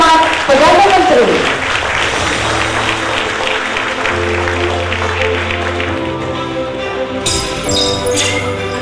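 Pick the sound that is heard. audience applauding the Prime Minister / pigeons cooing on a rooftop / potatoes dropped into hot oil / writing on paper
audience applauding the Prime Minister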